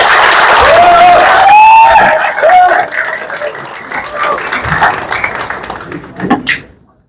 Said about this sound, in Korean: 한 분 한 분 소개드릴 때마다 큰 박수로 환영해 주시기 바랍니다